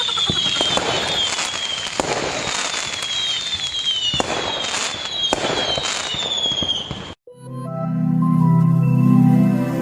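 Diwali firework rockets whistle upward and burst with dense crackling pops, loud and close, in repeated waves for about seven seconds before cutting to a different, steadier sound.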